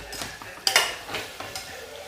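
Chopped carrots and tomatoes being stirred and tossed in a pan for Maharashtrian masale bhat, with a few quick scrapes and clinks of a spoon against the pan and a faint sizzle, close and brief.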